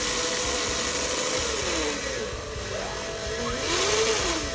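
A power drill whines continuously as it drills into wood, its pitch rising and falling as it works, fairly close against a steady noisy background.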